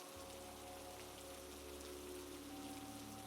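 Soft, steady rain patters evenly on a surface on a cozy winter night, a gentle continuous hiss with a faint low hum underneath and no voices.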